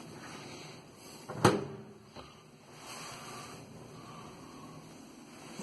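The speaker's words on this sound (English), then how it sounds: "Corner kitchen cabinet." A corner cabinet door in a kitchen swings open with a sharp wooden knock and soft rattle, followed by a fainter second bump as it settles, close by in a quiet room.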